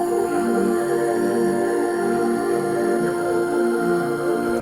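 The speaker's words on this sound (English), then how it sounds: "Then I added this vocal chord." A sustained vocal chord sample in FL Studio hums as a steady, layered synthetic choir tone, holding evenly at moderate loudness with no talking.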